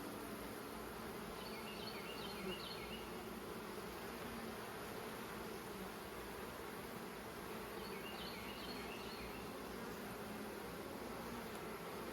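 Honey bees buzz angrily around an open hive during a mid-August inspection, a dense, loud, continuous drone that carries on without a break, with no talking.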